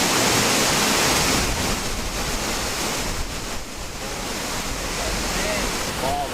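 Rushing river rapids and waterfall at Frank Falls in the Temagami wilderness, a steady broadband roar of churning water that fills the whole clip without pause, with no voices over it.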